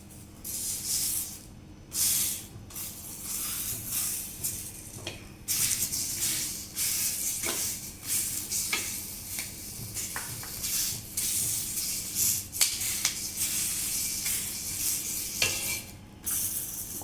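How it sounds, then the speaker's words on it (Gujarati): Cabbage leaves brushed with butter toasting in a hot pan for a paneer burger, a steady loud sizzle and hiss broken by scraping and stirring bursts throughout, with no voices. "એવી જ રીતે આ કોબીના પત્તાને પણ બટર લગાવીને શેકી લેવાનું છે 2 બાજુ."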